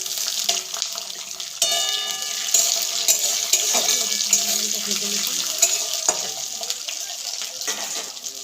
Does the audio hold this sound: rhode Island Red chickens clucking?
no